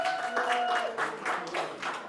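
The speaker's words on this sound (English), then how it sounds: "Y'all go ahead and give yourselves a round of applause for being here tonight" Audience applause at an evening kickoff event for a chamber of commerce financial readiness program: a steady wash of many hands clapping at moderate volume throughout, with a voice briefly audible underneath.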